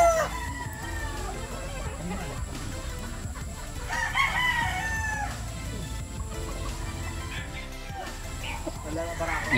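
Gamecock broodcocks at a game farm crow with rising, drawn-out calls mixed with scattered clucking, set against a busy yard of background noise and voices.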